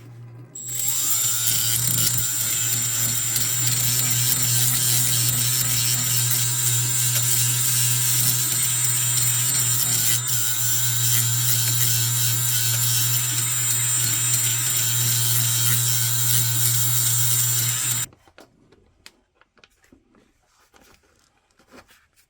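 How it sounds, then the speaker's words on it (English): A Milwaukee 90-degree die grinder with sanding pads strips paint from a metal socket with a loud, steady high-pitched whine for about sixteen seconds, then cuts off abruptly to near silence. "I'm going to use the Milwaukee 90-degree die grinder with some sanding pads to quickly remove the paint"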